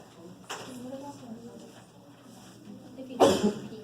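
A single sharp sneeze bursts out near the end in a classroom math review session, following quiet background murmur and a faint earlier cough-like sound.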